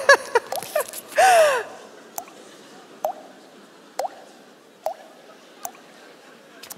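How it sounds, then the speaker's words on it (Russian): A leaking faucet drips steadily, with single clear drops falling about once a second. Brief voices and a sharp breath come at the start, then the drips continue alone. "у вас кран течет?"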